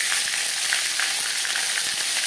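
Panch phoron spices fry in hot oil in a pan, giving a steady, bright sizzle that stays constant and close, with no voices.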